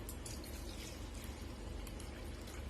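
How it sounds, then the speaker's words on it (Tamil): Water from fermented cooked rice being poured off into a bowl, a steady close splashing trickle running continuously without pause. "இந்த தண்ணியை ஃபர்ஸ்ட் ஒரு கிண்ணத்துல வடிச்சுக்கலாம்."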